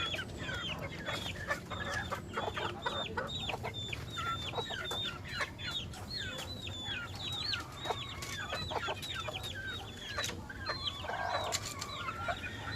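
Several chickens cluck and chatter in a busy overlapping stream, with occasional sharper calls, against a soft background hum.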